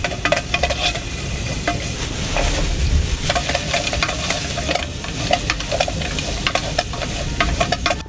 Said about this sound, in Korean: 오늘은 기름에 고춧가루 마늘 볶아가지고 약간 짬뽕 같은 오징어 라면 끓여볼게요